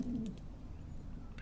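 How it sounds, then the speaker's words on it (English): A short, low video game pigeon coo sounds once at the start, soft and close, followed by a quiet hum. "Here is a pigeon."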